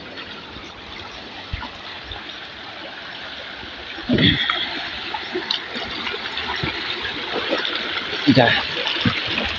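Flowing river water in a rural area near rice fields, a steady rushing murmur close by with occasional splashes, while people talk over it.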